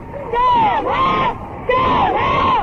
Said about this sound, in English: they want to give the crowd back on listening in Radio Land a big cheer for the Bulldogs